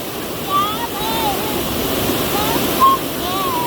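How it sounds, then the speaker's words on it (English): A waterfall at a swimming spot gives off a steady broadband roar close by, while children's and adults' voices call out faintly over it. "How's the waterfall?"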